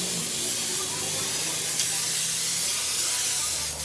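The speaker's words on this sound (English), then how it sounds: "you have to spray your panel piece with a little bit of glue" Contact adhesive sprays steadily onto a panel piece from a spray can in a continuous, close hiss that stays level throughout with no pauses.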